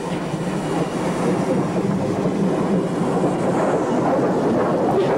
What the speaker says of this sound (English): A Dean Goods is heading north through the station with an engineer's train.